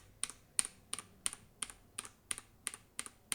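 Steady typing on a mechanical keyboard of a retro gaming handheld, about ten crisp, evenly spaced keystrokes, close and clear with no talking.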